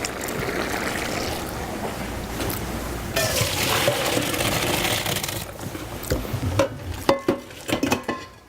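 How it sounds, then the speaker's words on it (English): Cooked spelt pasta is drained in a kitchen, water pouring and splashing steadily for several seconds, then a few sharp metallic clanks of a pot or colander near the end. "So I'm going to actually drain the pasta."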